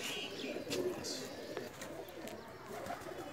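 A breeder pigeon held up close gives soft, low cooing sounds against a quiet background, with faint voices nearby.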